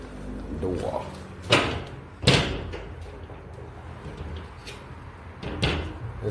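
An old door in a disused Dayton city transit building is rattled and thumped a few times as someone tries it, sharp knocks and bangs spaced out over several seconds, with people talking quietly around it.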